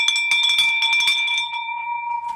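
A handheld bell rung in celebration in an office, with a bright ringing tone that lingers and fades beneath excited cheering and voices nearby.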